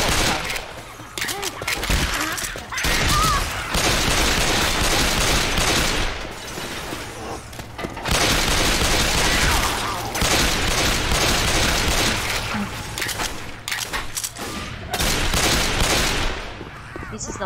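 Gunfire in the Left 4 Dead 2 zombie shooter, with fast bursts of shots rattling on and off over a steady game din, broken by brief pauses, while players talk over it.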